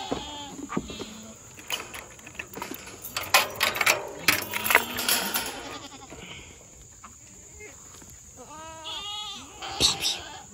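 Several goats bleat in short wavering cries, some near and loud, amid clattering, shuffling and a few brief human sounds.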